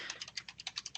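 Rapid typing on a computer keyboard, a steady run of crisp, close key clicks about ten per second, with no voices.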